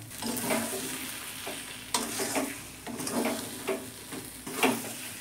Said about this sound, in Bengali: এবার টক দইটা দিয়ে একটু কষিয়ে নেব।